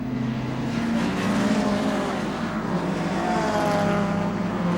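Racing saloon cars, led by a Talbot Sunbeam, drive through the esses of the Snetterton circuit with a steady, loud engine drone that rises and falls as they pass at close range.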